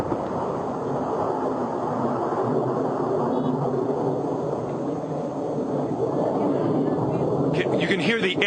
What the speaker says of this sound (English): You can hear the aircraft overhead right now.